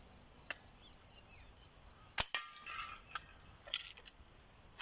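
A 120 cm slide-pull slingshot fires at cans outdoors on a quiet, cool morning. One sharp snap and impact rings out near the middle, with a few softer clicks around it and insects chirping faintly in the background.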